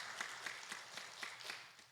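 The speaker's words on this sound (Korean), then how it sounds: "박수로 크게 환영하겠습니다" Congregation applauding in welcome at a Korean church's Sunday service, a faint, distant patter of clapping with soft rhythmic peaks, brief and steady.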